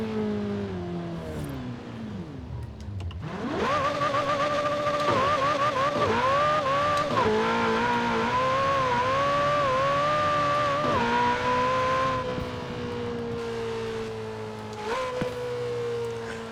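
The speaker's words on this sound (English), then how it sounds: "This Ferrari engine sounds sick." A Ferrari engine in Forza Horizon 4 revs and climbs through gears, a smooth synthetic roar with pitch rising and falling steadily, loud and continuous.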